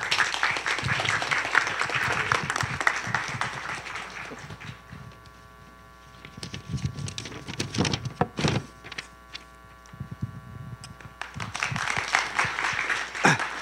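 An audience at an information session claps to welcome a speaker to the stage. A broad burst of applause opens loudly, fades into a quieter stretch with scattered sharp claps and a faint hum, then swells again near the end.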